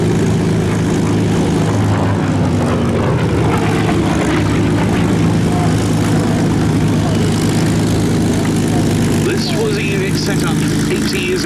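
A Yak fighter's propeller engine drones loudly and continuously at the Duxford Battle of Britain Airshow, a sustained powerful roar with a commentator talking over it.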